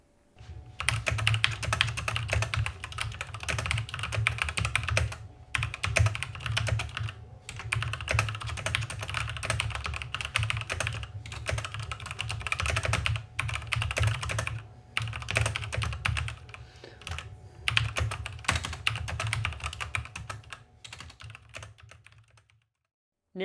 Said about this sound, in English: you'll hear from the audio test from the keyboard that it sounds really,